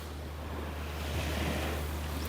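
Steady, heavy wind roars and buffets the microphone, with a low rumble throughout and no voices, at a lagoon and salt flats in Sardinia.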